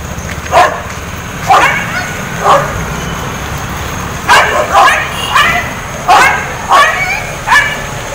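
Stray dogs at the Katapady bus stand bark in a series of about nine sharp, fairly close barks and yips, spaced irregularly over a steady background hum.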